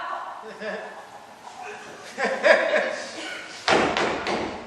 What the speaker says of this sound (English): Oh, what's he that knocks as he would beat down the gate?